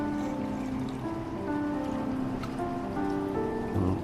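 Coolant being poured into the reservoir of a Buick LaCrosse, a steady close trickling and splashing with some gurgling tones throughout.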